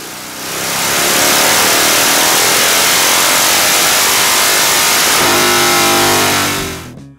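A motorcycle with S&S drag pipes, carbureted and fitted with adjustable thumb screws in the exhaust, roars loud and close on a dyno, holding a sustained high-rpm run before cutting off abruptly.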